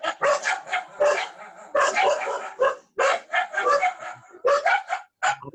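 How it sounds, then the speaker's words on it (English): A dog barks in rapid, loud bursts close by, the barks coming in quick clusters with brief gaps between them and no voices over them. "It's a musical bark."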